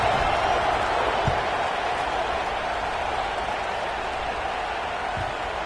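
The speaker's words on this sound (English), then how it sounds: "this crowd is buzzing after that last score." A stadium crowd in the video game College Football 26 keeps up a dense, steady roar of cheering, loud and continuous throughout, with a couple of faint thumps.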